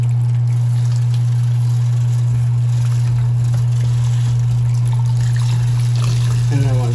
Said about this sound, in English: we're gonna take Dolly and run some water over her